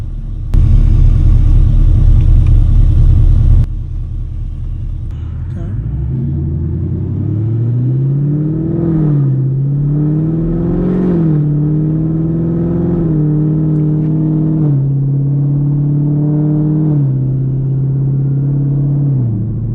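A straight-piped Chevrolet Camaro SS in track mode opens with a loud raspy burst, then settles into a deep rumbling drone that climbs and falls through several revs, close and continuous.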